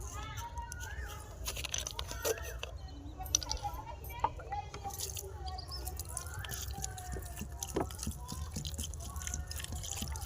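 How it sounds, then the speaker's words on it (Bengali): Water drips and trickles faintly onto a potted aloe vera plant on a rooftop, with scattered small splashes and soft background noise. "এখন আমি এতে পানি দেবো।"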